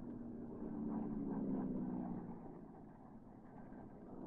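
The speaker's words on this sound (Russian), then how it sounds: "Индивидуальный пилотаж на самолете Су-26 демонстрирует в небе Тушино" A Sukhoi Su-26 aerobatic plane flies over Tushino during an aerobatics display, its propeller engine a faint, distant drone that swells briefly and then fades slightly.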